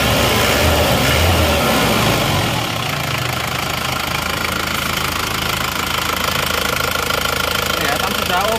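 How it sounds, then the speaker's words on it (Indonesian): An Isuzu Panther diesel engine running close by after a 5 km road test, with a loud, steady knocking clatter and dense mechanical noise throughout. "Suara mesin cek."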